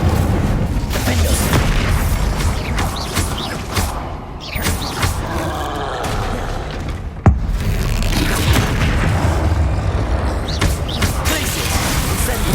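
Spell explosions from Hogwarts Legacy, Glacier, Confringo and Incendio, boom and burst through a dense, continuous game mix, with one sharp crack standing out midway.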